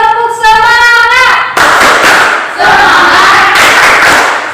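A classroom group performs a rhythmic clapping chant, with loud voices shouting together followed by bursts of sharp, rapid claps, close and energetic.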